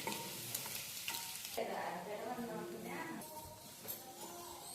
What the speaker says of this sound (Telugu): కొంచెం పసుపు వేసుకొని తర్వాత ఎగ్స్ని వేసుకొని వేయించుకోవాలి